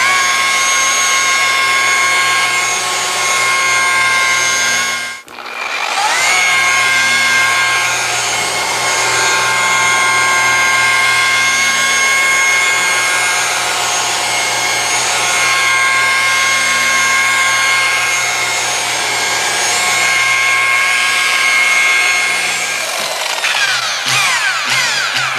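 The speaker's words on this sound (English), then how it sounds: "hold the throttle and buff. I'm going to kick this up a little bit." A car paint polisher buffs steadily at high speed, a continuous loud whine with a brief dip near five seconds before resuming and holding throttle, with no talking.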